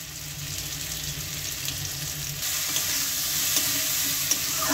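Mixed vegetables fry with puishak (Malabar spinach) in a pan, giving a steady close hiss that swells louder partway through, with faint stirring clicks and no speech.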